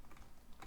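Left and right keys on a computer keyboard are pressed and held, giving faint, close key clicks over a soft steady background.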